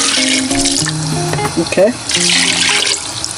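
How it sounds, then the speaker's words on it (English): Tap water pouring over washed goat meat for curry goat pepper soup, a close, loud splashing fill with a few short voiced sounds over it. "you just pour enough water to cover it."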